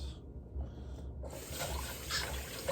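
Raspberries and blackberries being rinsed under a running tap, a faint soft trickle of water in a kitchen that grows into a broader splashing gush after a moment.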